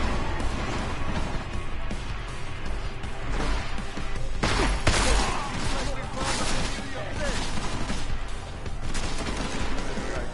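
Gunfire and explosions fill a firefight in the Deus Ex video game, dense volleys of shots and crashing impacts with a sharp burst near the middle, while game characters shout over the combat.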